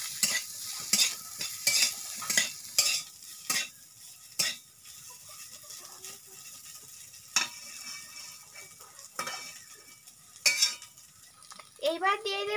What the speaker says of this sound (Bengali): আবারও বন্ধুরা কয়েক সেকেন্ড নাড়তে হবে।